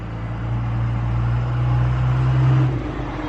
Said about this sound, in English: I hear a truck, possibly a UPS truck